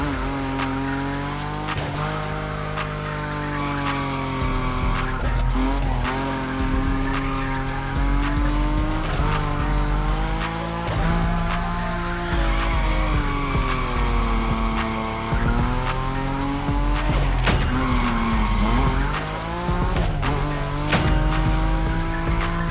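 A Nissan Nismo drifting at high speed in The Crew Motorfest, with a loud, continuous engine drone and steady tire squeal that rise and fall in pitch as the car slides, with no voices.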